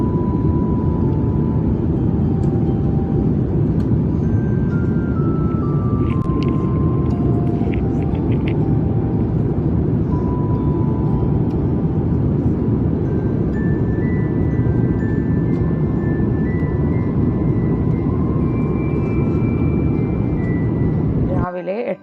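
Steady airplane cabin rumble during a roughly 15-hour flight at 34,000 feet over the Atlantic, a loud continuous low drone with faint chimes and tones drifting above it.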